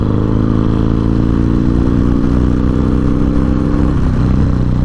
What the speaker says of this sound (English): A lot of fun with this 110 twin cam engine.